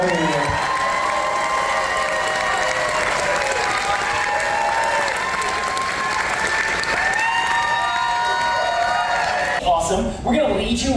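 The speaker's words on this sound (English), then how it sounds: "with a massive round of applause and a warm welcome, please welcome to the stage your experts, Amy Oliver and Mike Rizzo" A cruise ship audience on Liberty of the Seas applauds and cheers loudly and steadily at an onboard stage show, with whoops and crowd voices mixed in. Music-like tones run under it, and the crowd thins near the end.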